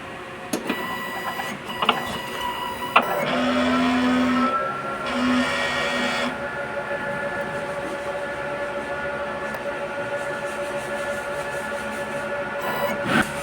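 A sublimation printer runs a print head cleaning cycle, with a sharp clack followed by sustained mechanical whirring and pumping, brief tonal squeals, and a steady motor drone that continues before a final knock.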